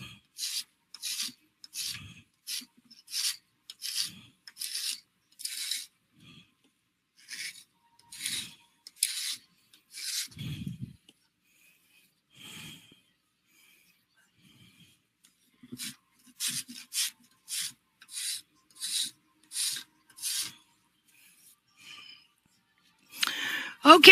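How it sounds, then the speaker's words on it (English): A farrier's rasp files a horse's hoof in rhythmic bursts of short, dry scraping strokes, pausing between sets, close and fairly loud with no talking. "now I'm going to lay my rasp at an angle again, and this time I'm going to come in all the way to the white line."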